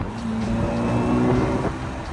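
A supercharged classic MG MGA engine accelerates on the road, a steady, throaty drone with rising harmonic pitch, heard close and fairly loud without speech.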